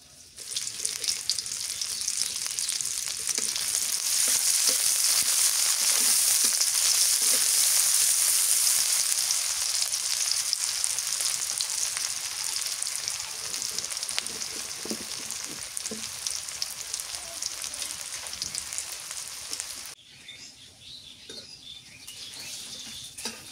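Chopped onion fries in mustard oil in a pan, a steady bright sizzle that swells and holds for most of the stretch, then drops off sharply near the end, with faint chirps of birds in the background.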